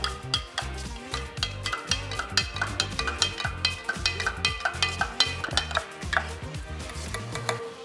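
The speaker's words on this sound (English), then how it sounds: "Of course, I gotta stir it up here." Brine of 6% salt in water, mixed for smoked scallops, is stirred in a container, giving a steady run of close clinking, swishing strokes with no talk.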